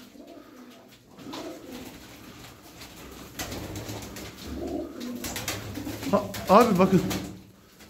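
Pigeons cooing in a loft holding eighteen birds, soft low coos rising to a louder burst of calls near the end, heard beneath someone talking close by.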